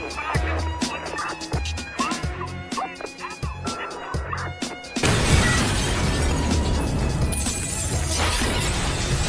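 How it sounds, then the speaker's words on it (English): In a scene from the TV drama 9-1-1, a sudden loud explosion erupts midway, followed by a sustained crackling roar and debris clatter after a stretch of sharp, rapid clattering sounds. "A sudden explosion caught the captain off guard"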